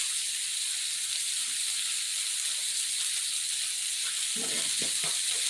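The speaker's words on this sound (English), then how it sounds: "I don't want it frying too quickly" Blackened chicken sizzles in hot avocado oil, a steady close-up crackling hiss, with a short clatter near the end.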